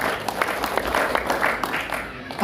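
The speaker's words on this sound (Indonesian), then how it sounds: "Tepuk tangan bagi Tuhan Yesus." A church congregation claps together for about two and a half seconds, a dense, steady patter of many hands with voices mixed in, swelling slightly at the end.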